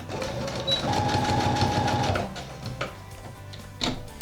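An embroidery sewing machine stitching a quilt block gives about two seconds of rapid, steady close stitching, then stops, leaving a few light mechanical clicks and taps.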